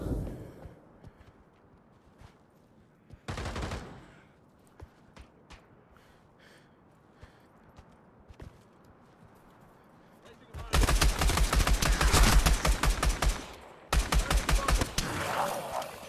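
Rapid bursts of automatic gunfire from the Pavlov VR shooter game, set in the Shack mode: a short burst early on, then a long loud volley followed by another near, dense burst, with quieter stretches between.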